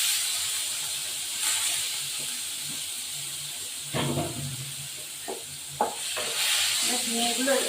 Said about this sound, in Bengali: এবার আমি ঝিঙে দিয়ে দিলাম এই যে ঝিঙেগুলো ছেড়ে দিলাম